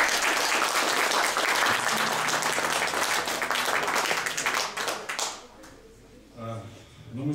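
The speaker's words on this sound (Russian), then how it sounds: "Аплодисменты." An audience applauds a performance at the Mayakovsky Museum, a full, loud burst of clapping for about five seconds that then dies away, leaving a quieter room with a voice near the end.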